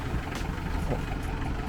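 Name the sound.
rough running engine of a Mahindra CJ500 Jeep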